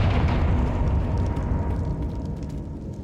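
Confringo fire spell in the game Hogwarts Legacy, a loud fiery burst that rumbles and crackles, then slowly fades over a few seconds without any voices.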